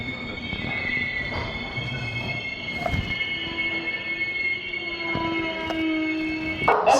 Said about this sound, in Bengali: শিয়ালদা থেকে ছেড়ে পাঁচশো আঠেরো কিলোমিটার ডিস্টেন্স কভার করে ফাইনালি ট্রেন এসে পৌঁছালো পুরী